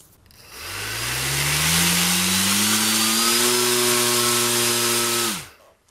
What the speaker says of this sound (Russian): Но для начала опять как эталонную тягу замерим с помощью покупного пропеллера 8 на 6